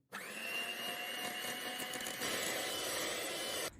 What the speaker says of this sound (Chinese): 用个打蛋器这样多搅拌一会儿，让它上劲